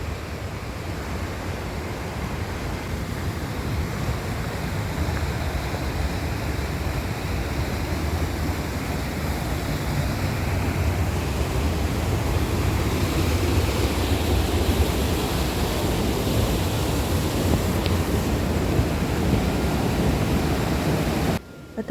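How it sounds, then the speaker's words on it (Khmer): A forest waterfall on a mountain trail rushes in a steady, dense roar, loud and unbroken, with no voices over it. "waterfall"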